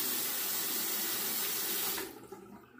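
Tap water runs steadily into a sink to wet a RazoRock Game Changer safety razor, a close, loud hiss that stops abruptly near the end, leaving faint clinks.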